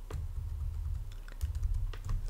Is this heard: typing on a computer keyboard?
yes